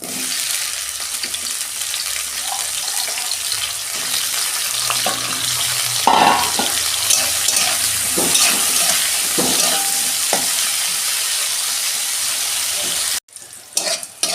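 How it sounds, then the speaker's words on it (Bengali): Bitter gourd pieces fry in hot oil in a wok, a steady loud sizzle broken by scraping stirs and clinks. The sizzle runs throughout and cuts out abruptly near the end. "এবার তেল দিচ্ছি, উচ্ছেগুলো ভেজে নেব।"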